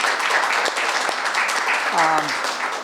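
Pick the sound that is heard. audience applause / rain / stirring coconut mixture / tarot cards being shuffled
audience applause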